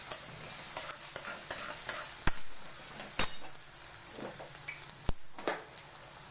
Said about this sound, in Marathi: कांदा टाकू,